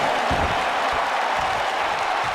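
Dense, steady crowd roar with applause from a WWE 2K wrestling video game arena, loud and continuous throughout without a break.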